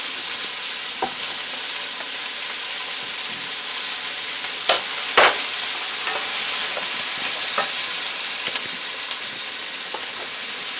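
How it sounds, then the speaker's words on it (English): Vegetable stock poured into a pan of sautéing onions and mushrooms for mushroom soup, giving a steady broadband sizzle with a few sharp clinks and scrapes of stirring, close and fairly loud, with no voices. "I'm going to add a little bit of the vegetable stock now as we do this, because the onions are starting to get a little bit translucent."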